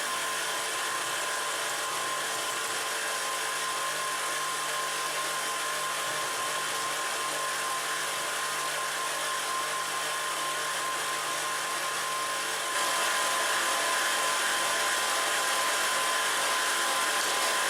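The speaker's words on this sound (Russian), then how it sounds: "Миксер продолжает работать на средних оборотах." An electric hand mixer whirring steadily at medium speed, beating butter and chocolate cream for a stabilised cake frosting, a constant close, loud motor hum with no talking.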